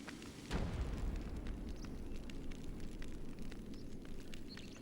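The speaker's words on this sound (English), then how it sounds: "that's also not a bad explosion effect, like at all" An explosion in the video game ICO: a sudden deep boom that settles into a sustained crackling, rumbling roar, heard quietly and at a distance.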